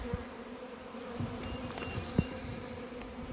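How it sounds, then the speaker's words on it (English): Buzzing of honeybees flying around a hive entrance in the open, a steady insect hum with a few bees passing close by, no one talking. "Right up here we have a few bees still flying around the location"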